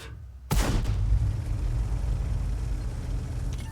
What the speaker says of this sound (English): Now we're still firing at the enemy tanks from the hill.